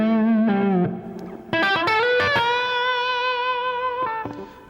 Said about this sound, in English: So you get a kind of a long delay now, but you hear that sort of the reverb behind it.